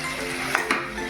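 Duck meat frying in a pan is stirred, with a continuous sizzle under quick scraping and clinking of a utensil against the pan, two short louder strokes standing out.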